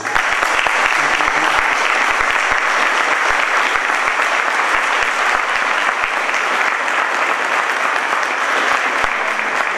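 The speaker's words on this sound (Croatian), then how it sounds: "a vi ćete ga pozdraviti velikim aplauzom" An audience in a hall breaks into loud, sustained applause greeting an honored guest, dense clapping from many hands that stays steady and close for the whole stretch.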